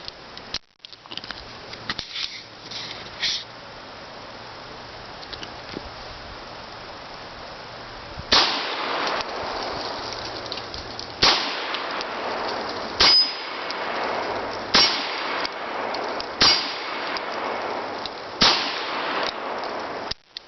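Smith and Wesson Model 10-5 revolver fired outdoors, a sharp loud crack every second or two over steady background noise, roughly a half dozen reports spaced unevenly with quiet stretches between.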